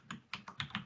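Computer keyboard keys clack during a live coding lesson, four or five quick, close, fairly quiet keystrokes in an uneven rhythm with no voices.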